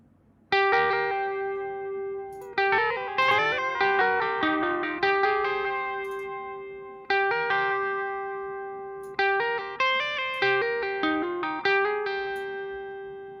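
Electric guitar through the Archetype Nolly X amp plugin with delay, played as loud plucked notes and chords in bursts, each decaying into a ringing tail with repeats behind it, clean and distorted tones blending.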